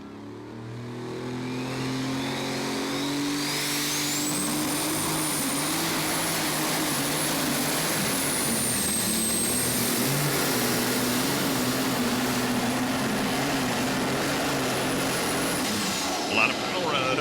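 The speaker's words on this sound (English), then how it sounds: "A lot of power out of McCormick tractor." A powerful McCormick pulling tractor engine roars continuously at an NTPA truck and tractor pull in Rockwell, Iowa, climbing in pitch as it strains onward, loud and sustained for many seconds, with an announcer talking over it.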